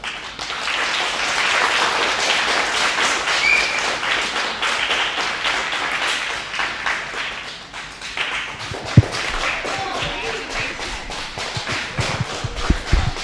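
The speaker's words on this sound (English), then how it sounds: "Let's give her a round of applause." A school audience applauds a fifth-grade student at a class celebration, sustained close clapping from many hands that dips briefly midway and then picks back up.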